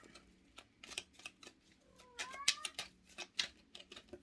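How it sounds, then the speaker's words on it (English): A cat moving about a quiet room during a tarot card reading, giving a short rising vocal cry midway among soft rustling and card-handling noises, fairly close and alone without talk. "I tried not getting that cat in here,"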